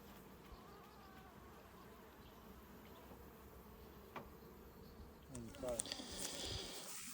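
Honey bees hum at an apiary around hives with nucleus colonies and honey supers, a faint continuous outdoor buzz with occasional bees passing nearby, growing louder toward the end as hive handling adds rustling and knocks.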